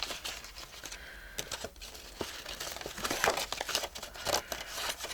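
Stiff plastic sheet cut to fit a window card being handled and pressed into place, giving continuous close crinkling and rustling with sharp crackles and taps throughout.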